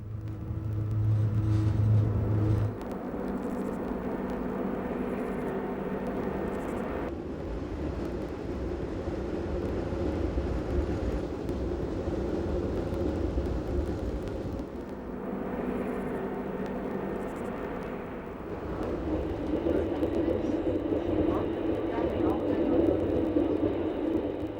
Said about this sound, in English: The rack system enables the train to make steep descents as well as steep climbs.